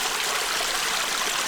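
A mountain waterfall and stream in Val Zemola pour out a steady, dense rush of water. It sounds close and continuous with no breaks and no voices.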